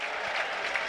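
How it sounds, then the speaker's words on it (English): A football crowd at a Burnley v Norwich FA Cup match applauds a substitution, a brief, distant wash of clapping and cheering spread across the stadium. "Cheers from the crowd."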